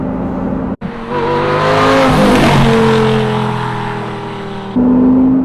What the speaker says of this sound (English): Difference between the stock exhaust and having the Fab Speed X pipe on, this is night and day